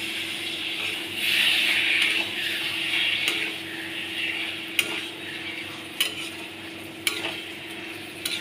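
Onion, garlic and green chilli sizzle in a pan with chicken while a spoon scrapes and stirs, giving a steady frying hiss broken by occasional sharp clinks of the utensil against the pan.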